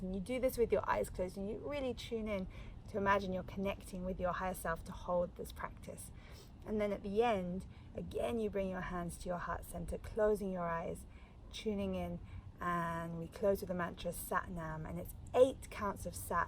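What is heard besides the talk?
No everyday noises stand out.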